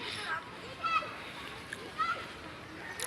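Children bathing in a deep river on a hot day, their splashes faint and distant, with scattered young voices over a steady wash of water and outdoor noise.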